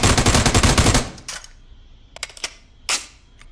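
An M4 rifle in Ghost Recon Breakpoint fires a loud, dense full-auto burst for about a second, then a few separate sharp shots follow after short gaps, with quiet between them.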